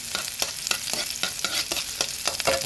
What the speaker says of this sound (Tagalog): and then, halu-haluin ang ating sibuyas